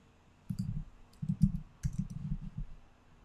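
Computer keyboard typed in short bursts of quiet clicks separated by pauses, faint and close with no talking.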